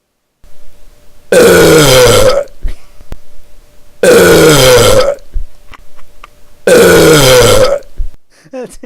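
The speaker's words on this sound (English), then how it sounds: "Here's beer belch 1." Three long, loud, deep belches after drinking beer, each lasting about a second and spaced a few seconds apart, close to the microphone with faint breathing between.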